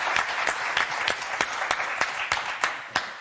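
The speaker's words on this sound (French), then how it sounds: "on va vous applaudir quand même, Jocelyne et Jean-Paul" Studio audience applauding on the Motus game show: a steady round of clapping with sharp individual claps standing out, lasting throughout at close, even volume.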